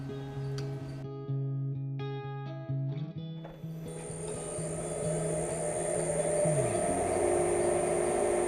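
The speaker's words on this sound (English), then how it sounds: "I'm going to take my negative rake scraper, see if I can clean" A negative rake scraper rasps against spinning wood on a lathe, a close, continuous scraping over the lathe's hum after a few tonal knocks at the start.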